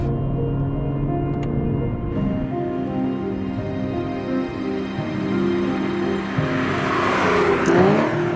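An Aston Martin DB9 GT on the road, its engine note steady and prominent from inside, building toward a louder surge near the end with wind and road noise.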